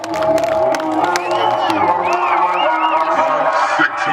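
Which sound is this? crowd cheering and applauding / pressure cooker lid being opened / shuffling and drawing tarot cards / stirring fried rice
crowd cheering and applauding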